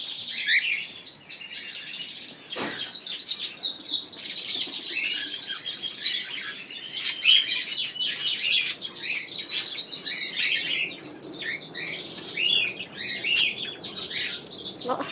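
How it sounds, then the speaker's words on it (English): Many birds in a home aviary chirping and tweeting densely and continuously, a busy overlapping chorus close by, with a brief thump early on and no talk. "Lot of happy birdies."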